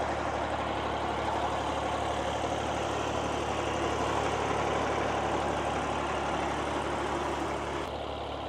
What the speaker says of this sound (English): here we've got a chap who's under instruction with his gorgeous Super Dexter